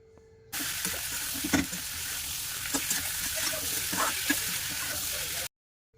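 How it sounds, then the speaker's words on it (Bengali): Cauliflower and potato pieces sauté in a spiced tomato masala, giving a steady, close sizzle for about five seconds with a few clinks and scrapes of stirring, then an abrupt stop. "ফুলকপি আলুটা ভালো করে কষিয়ে নিয়েছি"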